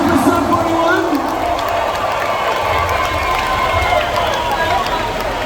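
A large concert crowd cheers at a show at Pine Knob in Clarkston: sustained roaring applause and whoops fill the venue, with an amplified voice carrying over the noise at the start.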